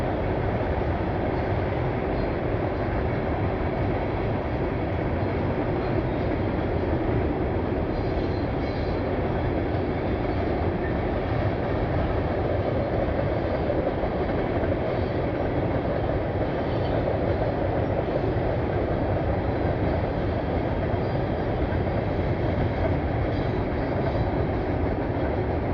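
A Norfolk Southern mixed freight train rolls past in Lowellville. It makes a loud, unbroken rumble of wheels and cars that holds steady for the whole stretch, with no voices.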